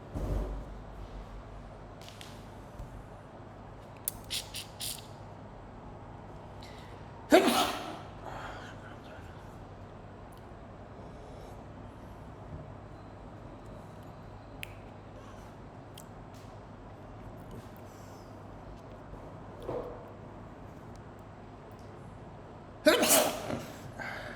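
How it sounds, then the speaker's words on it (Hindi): A single sharp sneeze bursts out about a third of the way in, followed later by a second one near the end, both close and loud over a low steady room hum, with faint rustles between. "छींकते हुए ना बहुत बुरा मुंह बनता है मेरा, इसलिए मैंने कैमरा बंद कर दिया था"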